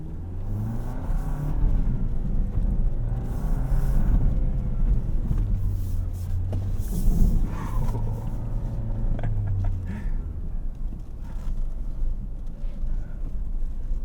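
A 2024 Toyota Land Cruiser 1958 on an off-road course, its engine rumbling and revving in rising and falling pitches, close and continuous, with someone talking over it.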